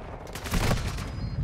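Rapid automatic gunfire from Modern Warfare 2 multiplayer rattles in a dense, loud burst of overlapping shots that swells midway and continues steadily.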